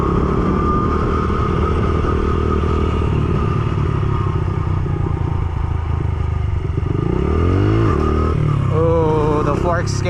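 A motorcycle engine with a loose exhaust bolt idles with a steady, rattling clatter, then briefly revs higher near the end, loud and close throughout.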